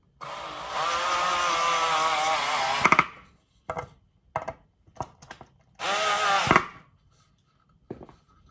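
A power drill drives pan head screws to attach a handle to a charcuterie board, with two long steady whirring runs followed by several short, sharp bursts as the screws seat snugly, close and alone.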